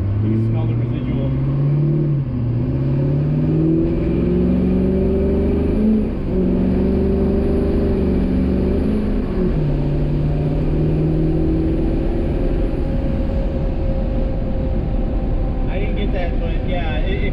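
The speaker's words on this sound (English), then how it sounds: "if you were to put it to the floor, it does definitely hesitate on each gear" A lifted truck's engine holds a loud, close, sustained roar under full throttle, its pitch rising and dropping unevenly as it hesitates on each gear before settling into a steady rumble.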